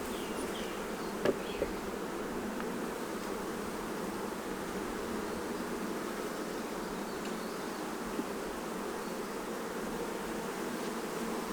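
A dense, steady drone of many honeybees buzzing close by on a hive frame, continuous and even, with a couple of faint clicks.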